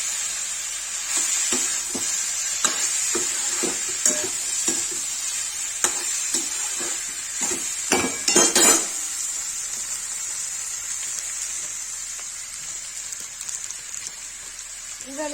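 Aloo gobhi with turmeric and red chilli is stirred in a frying pan, steady sizzling under repeated scraping strokes of a spoon, close and clear, with faint talk.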